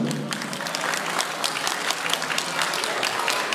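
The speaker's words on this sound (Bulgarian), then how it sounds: "Аплодисменти за младата двойка." Wedding guests at a reception break into dense, sustained applause for the newlyweds, a steady crackle of many hands clapping at once, fairly loud and continuous throughout, with faint crowd murmur beneath.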